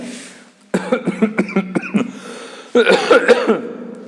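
A person coughs close up in a rapid series of harsh bursts, pauses, then coughs again in another rough cluster.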